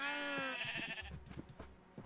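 A sheep in Minecraft bleats with a wavering, harmonic-rich cry during the first half-second, then fades beneath softer in-game thumps and clatter.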